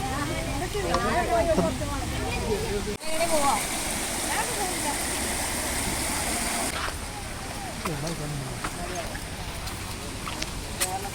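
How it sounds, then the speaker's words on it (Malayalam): Rushing water from the small Palur Kotta waterfall, a steady broadband roar heard nearby, with people talking faintly over the continuous flow throughout. "നമ്മൾ വെള്ളച്ചാട്ടത്തെ അവിടുന്ന് കാണുന്നുട്ടോ"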